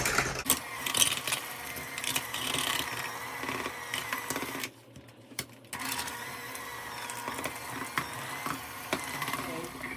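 A small electric hand mixer whirs at slow speed through cheesecake batter, a steady close mechanical buzz with rattling beater clatter that cuts out briefly midway and then starts again.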